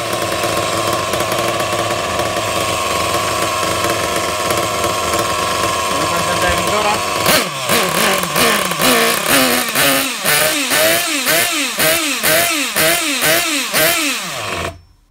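Hyper 7 Pro RC buggy nitro engine first runs at a high steady whine, then sputters and revs in rapid repeated rising bursts before cutting out, close and loud.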